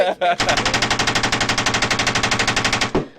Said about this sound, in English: Oh, it's a gunshot.